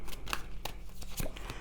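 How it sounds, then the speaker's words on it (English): Tarot cards are shuffled by hand, producing a handful of sharp, scattered papery snaps and soft rustles at close range. "It keeps saying shuffling and I keep ignoring, so let's shuffle."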